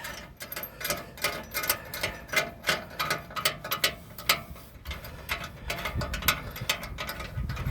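Ratcheting clicks from a wrench or hose clamp being tightened in the engine bay of a 1965 Ford Thunderbird under rebuild, a run of quick close metallic ticks in short uneven bursts, no talking.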